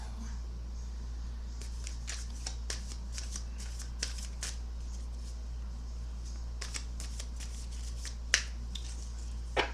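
A Fountain Tarot deck being shuffled up close, with repeated quick riffles and card slaps in irregular bursts over a low steady hum.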